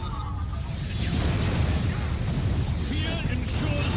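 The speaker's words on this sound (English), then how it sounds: "Fire control. Initiate strafing run." Strafing-run explosions in the Warhammer 40,000 strategy game Dark Crusade, Imperial Guard campaign: a continuous rumbling barrage of blasts and bursts with battle noise and a talking voice over it.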